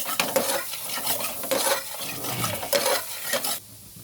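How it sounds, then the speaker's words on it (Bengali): Chopped garlic fries in a pan, a bright sizzle broken by repeated scraping and clinking strokes of a spoon against metal, close and fairly loud. "হালকা সব ব্রাউন করবো গার্লিককে"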